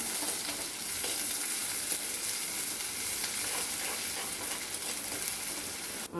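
Curry leaves sizzle and crackle as they are stirred into onions browning in oil for a Kerala-style fish curry with kudampuli; a dense, steady, close frying hiss runs throughout with no voices.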